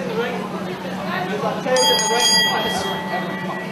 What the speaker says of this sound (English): the bell sounds and we're ready for action